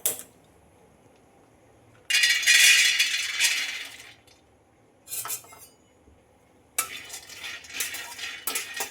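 Peanuts being dry-roasted in a pan for a peanut sweet, heard as bursts of scraping and rattling of stirred kernels against the metal, separated by quiet gaps, close and fairly loud.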